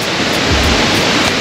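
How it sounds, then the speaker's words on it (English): Rain falls close by at a waterfall in Khao Yai National Park, Thailand, a loud, steady hiss that fills the scene with no voices. "Oh guys, it's starting to rain."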